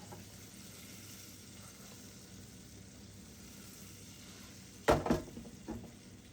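Banana blossom pieces fry in shallow oil, a steady low sizzle running throughout, then a brief louder clatter and stir of the pan near the end.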